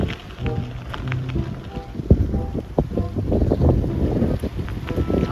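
Rough wind buffets the microphone in uneven gusts, with rumbling low noise and scattered knocks and clatter nearby.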